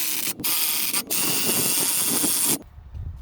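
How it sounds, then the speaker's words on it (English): Impact driver hammering pulley bolts onto the harmonic balancer of a 1997 Chevrolet S10 4.3, a loud rapid rattling burst broken by two brief pauses, then stopping abruptly. "Now I'm going to run them in with my impact driver."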